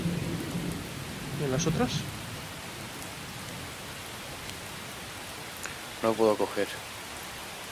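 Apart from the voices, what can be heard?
rain in a video game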